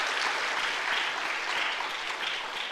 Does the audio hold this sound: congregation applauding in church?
yes